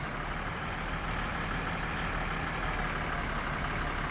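In the video game My Summer Car, a van's engine runs steadily in first gear, a constant low rumble with broadband hiss, loud and close, with no talk.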